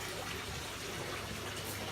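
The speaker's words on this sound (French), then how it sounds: "en ouvrant le robinet d'eau chaude ici" Hot water tap running at a farm, a steady, soft rushing flow of water with no break and no voices.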